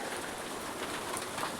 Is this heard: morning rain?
yes